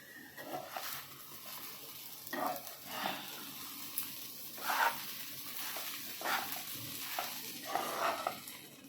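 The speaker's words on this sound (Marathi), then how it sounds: "आपण एकदा खिचडी हलवून घेऊया" A spoon scrapes and stirs sabudana khichdi in a pan in a few separate quiet passes, with soft intermittent scratching and gentle bumps against the pan and faint sizzling between them; no talking.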